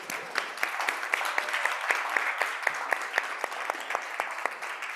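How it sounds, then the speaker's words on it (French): An audience applauding a volunteer at a live coaching session, a moderately sized crowd clapping steadily with individual sharp claps standing out, continuing evenly throughout. "J'aimerais ça qu'on l'applaudisse, s'il vous plaît."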